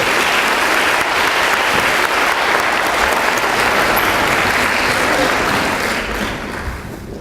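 A large audience applauds social work award winners at an academic convocation, sustained dense clapping filling the hall, steady and loud before tapering slightly at the end.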